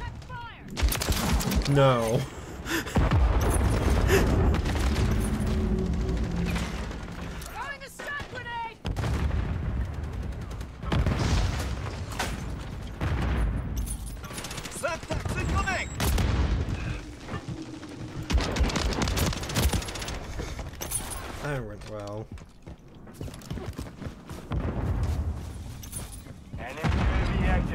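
Dense gunfire in Call of Duty Modern Warfare III, loud rapid bursts and booms that go on almost without a break, with a voice briefly calling out over the shooting.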